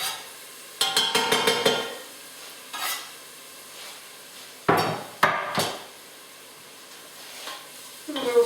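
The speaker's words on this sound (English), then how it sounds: "I'll put my garlic in, because what I want to be careful of, garlic burns very quickly" Garlic hitting a hot pan and being stirred, with sharp clattering of utensils against cookware in bursts and a faint sizzle beneath, close by and intermittent.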